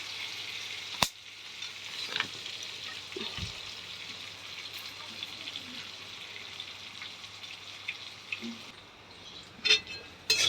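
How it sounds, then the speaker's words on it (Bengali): Onions fry in oil in a pan until reddish-brown, for a fish curry. A faint, even sizzle runs throughout, with occasional soft clicks and a few louder taps near the end. "লাল লাল করে পেঁয়াজটা ভাজা হয়ে গেছে"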